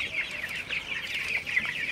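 Broiler chickens about twenty days old cluck and chatter together in a shed on a winter day, a dense, steady flock murmur with overlapping calls close by.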